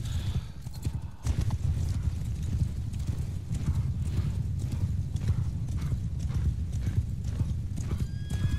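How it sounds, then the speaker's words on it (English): A horse gallops in the video game Mount & Blade: Warband, with steady rapid clip-clop hoofbeats running through the whole stretch alongside a whinny and busy battlefield noise. "And our horse, our royal mount,"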